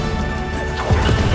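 The Confringo fire spell from Hogwarts Legacy goes off in a loud, short blast and crash over a dense game background.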